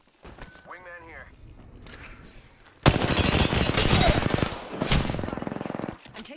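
Apex Legends gunfire, a loud rapid burst of automatic shots erupting after a quieter start, with a short voice line heard early.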